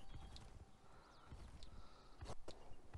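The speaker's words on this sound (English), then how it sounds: "My horse kicks when it jumps." A horse's hooves in the Elder Scrolls Online game clop along in an uneven rhythm, several sharp hoofbeats standing out against a soft background, moderately close and fairly faint, with no speech.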